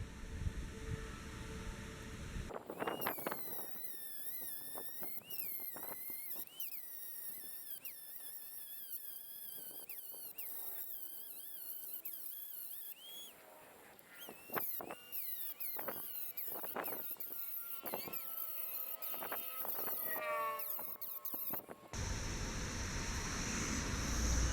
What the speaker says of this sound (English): I'm going to grind the weld a little bit to make clearance for the nuts.